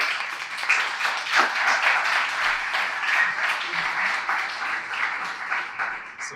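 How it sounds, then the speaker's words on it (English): A conference audience at a blockchain event applauds steadily as a speaker comes on stage, with sustained, even clapping that is fairly close and runs throughout. "big round of applause, please"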